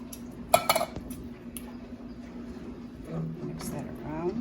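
Stewed tomatoes being stirred in a metal soup pot, with a cluster of sharp clinks and scrapes early on, then softer occasional scraping under light background noise.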